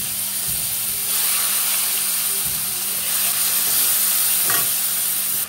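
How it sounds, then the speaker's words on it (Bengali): Sliced onions frying in oil in a pan, the oil left from frying aubergine, make a loud, steady hiss, broken by a few scraping stirs of a spatula. No one speaks. "আর এখন দিয়ে দেবো হচ্ছে পেঁয়াজ।"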